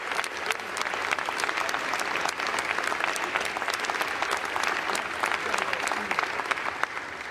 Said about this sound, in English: They're clapping for a permanent loser, dude.